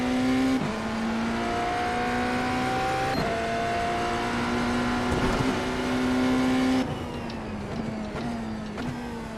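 A NASCAR stock car engine in a racing video game, a loud, droning motor whose pitch climbs and drops sharply with repeated gear shifts and throttle changes, with no talk.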